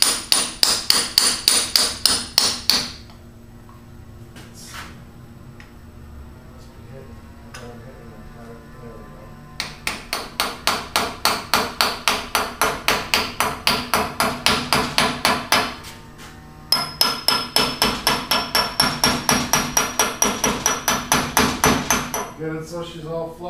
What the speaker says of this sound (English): that's just going to tap on with a hammer